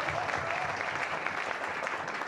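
A Christmas event audience applauds, dense and steady clapping that fills the short stretch at an even loudness with no one talking.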